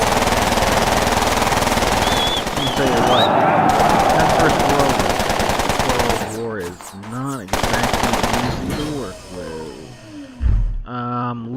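Video game gunfire erupts as loud, rapid machine-gun bursts and scattered shots, with shouting voices over the din and brief pauses between volleys.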